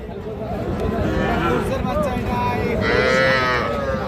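A young heifer calf moos at a busy cattle market, two drawn-out calls rising over a background of people talking and crowd babble.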